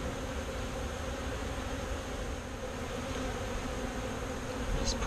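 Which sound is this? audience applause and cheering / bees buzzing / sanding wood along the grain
bees buzzing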